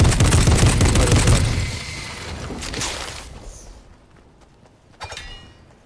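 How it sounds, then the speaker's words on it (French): Heavy weapon firing large rounds in Fortnite, a dense burst of loud gunfire for the first few seconds that fades into scattered lighter shots and a final short blast. "Donc là vraiment ça tire des grosses munitions."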